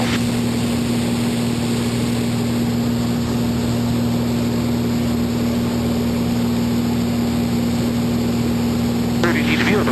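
An Extra 300L aerobatic plane rolling halfway into inverted flight, its engine and propeller producing a loud, steady droning roar heard from inside the cockpit, with a brief clunk near the end.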